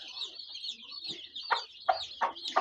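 A hen clucks in short, repeated calls to her chicks, a few bursts coming quicker toward the end, close by with faint chirping in the background.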